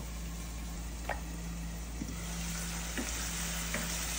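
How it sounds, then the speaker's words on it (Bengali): Potatoes fry in a pan with a steady, even sizzling hiss that runs throughout, broken by a few faint ticks and light utensil taps. "আলুটাকে আমি 2-3 মিনিট কষিয়ে নিব"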